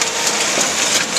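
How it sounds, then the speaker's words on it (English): The tamper of a Duplo bookletmaker presses down on a booklet's bind, making a brief, loud, steady mechanical rumble and hiss with faint repeated pulses. "that's your tamper that's smashing down the bind"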